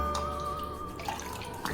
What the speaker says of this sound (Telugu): ఇంకోసారి వాటర్ వేసుకొని నీట్గా కడుక్కుందామండి